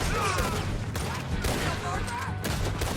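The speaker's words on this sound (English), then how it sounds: "Another gunfight!" Dense, rapid gunfire fills a gunfight in Red Dead Redemption 2, loud and unbroken, with overlapping shots and scattered sharper cracks.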